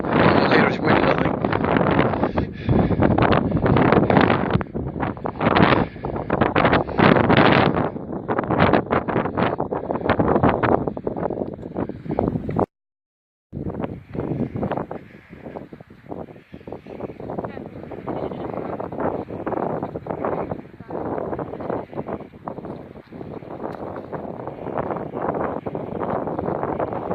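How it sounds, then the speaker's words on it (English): Heavy wind buffets a microphone outdoors on a countryside walk, a loud, constant roaring rumble with gusty surges that drops out for about a second midway and then resumes just as strongly. "I'm guessing there's going to be a lot of wind noise on this"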